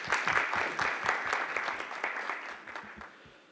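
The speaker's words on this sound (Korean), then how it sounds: "박수 부탁드립니다." An audience at an AFC 22 fight promotion media day claps loudly in a dense, steady burst that gradually thins and fades over a few seconds, with no voices over it.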